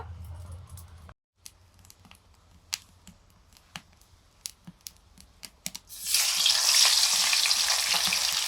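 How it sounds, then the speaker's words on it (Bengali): Fish pieces hit hot mustard oil and erupt into loud, dense sizzling, preceded by scattered clicks and handling noises of food being prepared. "মাছগুলো ভেজে নিচ্ছি"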